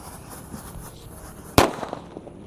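A red disco happy flower firework going off at night, a single sharp loud pop or crack followed by brief crackle, over quiet outdoor background with no talking.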